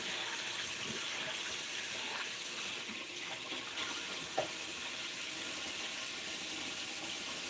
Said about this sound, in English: I do dishes.